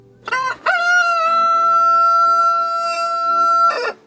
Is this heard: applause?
no